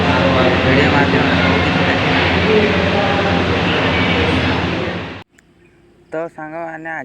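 A train runs with a loud, dense, continuous rumble and rattle close by for about five seconds, then cuts off abruptly into near quiet with a short tonal sound.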